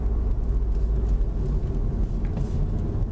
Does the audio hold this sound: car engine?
yes